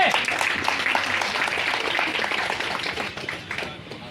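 Audience clapping after a motivational Hindi speech, a steady dense round of applause lasting throughout and tapering slightly at the end, with faint voices mixed in.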